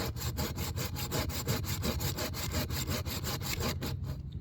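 A SOG folding saw cuts into standing timber in a wet outdoor camp, a close, steady back-and-forth rasp of even, rapid strokes that stops near the end.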